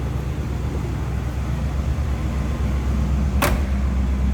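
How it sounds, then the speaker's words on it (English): A single sharp thud from the door of a 1979 Pontiac Trans Am shutting cuts through a steady background hum of an idling engine. "So nicely that door closed. Didn't take much to close."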